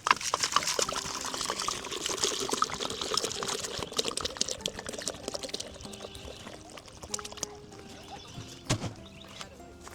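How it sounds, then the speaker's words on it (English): About a gallon of water pours steadily into a container garden for several seconds, splashing and gurgling, then thins to a trickle with a few scattered drips and knocks. "pour out a gallon."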